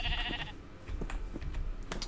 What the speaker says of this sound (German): Da mehrere Schafe sogar.